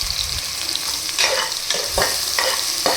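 Crushed garlic cloves sizzle in hot tempering oil with a loud, close frying crackle, broken by a few rhythmic scrapes of stirring.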